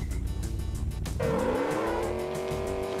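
A car in the video game Enviro-bear 2000 drives with a loud revving engine and squealing tires, the pitch rising as it accelerates, close and continuous throughout.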